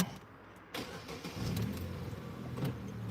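A 2012 Opel Zafira with a 1.8 petrol engine cranks briefly, catches and settles into a steady idle, heard close up with no talking.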